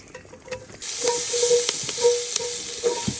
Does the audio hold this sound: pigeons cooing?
no